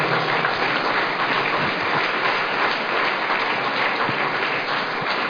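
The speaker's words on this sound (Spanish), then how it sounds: "Denle un fuerte aplauso al Señor." A church congregation applauds together, a dense, steady wash of clapping that fills the room at even loudness from start to finish with no voices rising above it.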